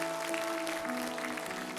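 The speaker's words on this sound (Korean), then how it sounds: "우리 함께 사랑과 축복의 박수로" A church congregation at a young adults' worship service applauds briefly, steady clapping heard over sustained instrumental tones from the sanctuary, with no speech.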